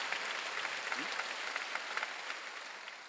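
A church congregation at a Wednesday worship service claps in a steady scattered patter, many hands spread through a large room, moderately faint and lasting a few seconds without speech.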